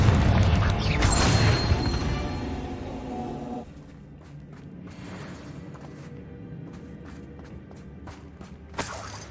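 Confringo spell blast in the video game Hogwarts Legacy: a loud, crackling burst and crash that fades over a few seconds into quiet background, followed by a few faint clicks and a short sharp hit at the end.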